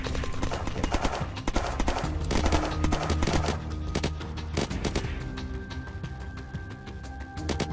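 Gunfire in the survival game Unturned crackles in dense, rapid bursts of sharp shots, some close and loud, over a steady background with a faint voice now and then.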